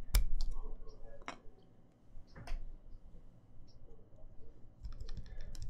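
Rattly spacebar on a Caustic Custom TGR 910SE keyboard built with lubed Nixie switches, giving three sharp, hollow clacks spaced about a second apart among lighter, quieter key clicks, all close up.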